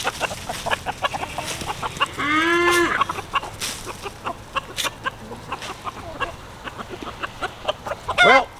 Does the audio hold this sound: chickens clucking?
yes